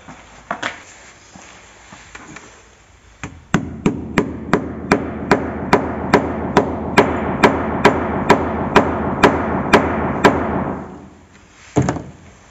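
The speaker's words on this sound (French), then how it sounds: "Le marteau." A hammer strikes steadily while furniture is refitted inside a van. About twenty close, loud, evenly spaced blows follow a few lighter knocks, then one final hit after a pause.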